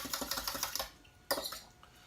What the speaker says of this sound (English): whisk those together with my big fork